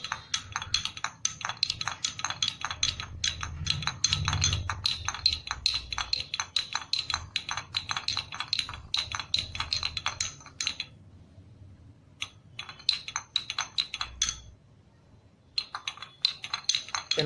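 Rapid clinking of a utensil against a bowl while water is stirred, a busy steady rhythm with a couple of brief pauses.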